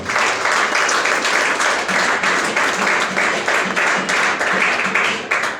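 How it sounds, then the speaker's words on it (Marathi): Loud, sustained applause from an audience fills the whole stretch, a dense wash of many hands clapping at an even intensity with faint voices buried in the crowd. "तर त्याच्यासाठी एकदा जोरदार टाळ्या वाजवा"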